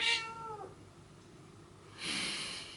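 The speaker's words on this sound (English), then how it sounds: "So excuse any whining cats that you can hear." A cat meows twice, a short drawn-out call at the start and another after a quiet pause, indoors and fairly close, with no talking.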